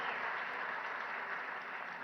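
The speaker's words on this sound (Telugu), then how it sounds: "పెద్ద ఎత్తున మీరు చప్పట్లతోని వారిని అభినందించండి" Steady, dense applause from an audience at a Ravindra Bharathi event with CM Revanth Reddy, a continuous wash of many hands clapping at even loudness throughout.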